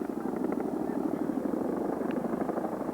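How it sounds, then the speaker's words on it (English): Several helicopters fly over outdoor tennis courts at a girls' tennis state final, a steady, fairly loud rotor drone filling the scene with faint crowd noise underneath. "there are about 5 helicopters coming over, maybe from Glenview"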